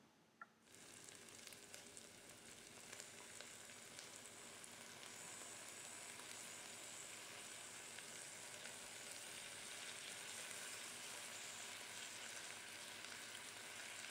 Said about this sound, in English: Now we're going to make sure that they're sizzling.